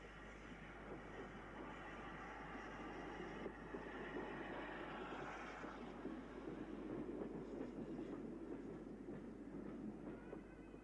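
A train on a heritage railway in the UK runs under a road bridge near Norden, giving a steady rumbling roll with a low engine drone and faint wheel clatter, moderately distant and without talk.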